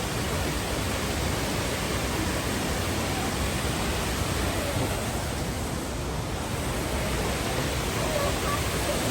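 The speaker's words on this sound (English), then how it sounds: "Some waterfalls are really thunderous. This is not as thunderous as some." Cascada Peguche waterfall, a moderate rather than thunderous cascade, heard as a broad steady rushing roar from a nearby viewing platform, continuous and unbroken.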